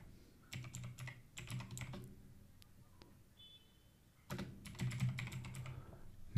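Someone types on a computer keyboard in two close, quiet bursts of rapid clicking, separated by a pause with a few isolated taps.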